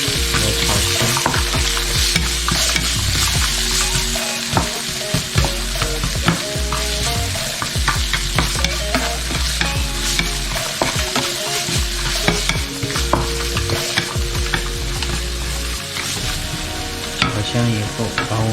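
Curry chicken legs with black-eyed peas are stir-fried in a wok, giving a continuous loud sizzle broken by frequent scraping and clattering strokes of the spatula, close up and without talk.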